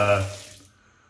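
Soft water runs from a bathroom tap during a wet shave, a brief close splash that fades out within about a second, with no talk over it.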